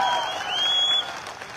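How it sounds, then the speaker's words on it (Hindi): A live audience claps together at a product seminar in Jodhpur, a short dense burst of applause that swells briefly and then thins out. "अरे ताली कितनी बजानी चाहिए"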